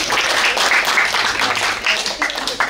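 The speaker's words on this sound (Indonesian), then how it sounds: "Nyok, kita tepuk tangan dulu." Loud audience applause at a Betawi cultural gathering, a dense crowd clapping steadily and close for the whole stretch with a few louder individual claps standing out.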